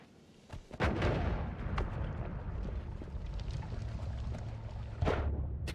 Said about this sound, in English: just use a bomb because I'm lazy